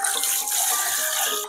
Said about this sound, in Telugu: కానీ మనం దీన్ని బాగా కడుక్కోవాలి వాటర్లో.